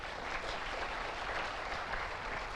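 Applause from a large college audience of around a thousand students, a dense, even roar of clapping that holds steady throughout, heard from within the hall.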